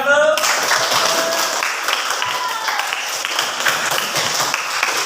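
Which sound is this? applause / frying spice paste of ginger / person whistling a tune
applause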